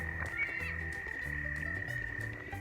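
Frogs croak loudly outdoors during a nature walk, a dense overlapping chorus of throaty pulsing calls over a constant high trill, all fairly close.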